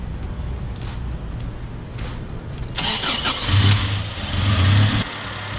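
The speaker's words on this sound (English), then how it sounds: "So now we're going to start her up." First-generation Toyota 4Runner engine cranking with a rapid starter chatter, then catching and running with a loud, rising rev that settles into a steady idle, close by.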